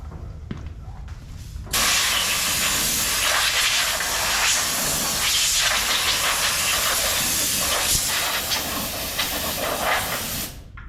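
Compressed air blasts from an air hose on a small-block Chevy engine with the valve covers off, a loud steady hiss that starts abruptly after a quiet moment and runs for about nine seconds before cutting off.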